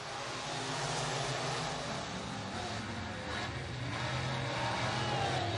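Race cars roaring around a speedway at the green flag, a dense, steady wall of engine noise from a pack of cars throughout, with no clear individual passes standing out.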